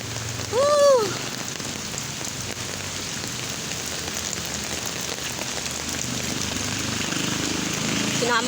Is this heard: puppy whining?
no